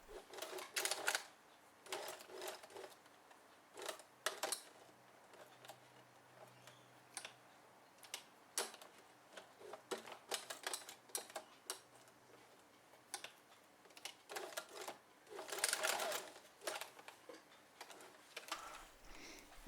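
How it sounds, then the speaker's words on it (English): A sewing machine stitching in short bursts, quick mechanical ticking runs starting and stopping, close and fairly quiet with pauses between. "I was actually moving the wheel on the side of the sewing machine"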